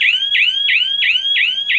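Electronic bird-scaring beeper running on a timer in a pear orchard, sounding loud, shrill chirping beeps that repeat about every third of a second, steady and close, with no talk over them.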